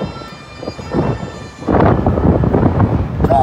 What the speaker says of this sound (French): Le vent est trop là.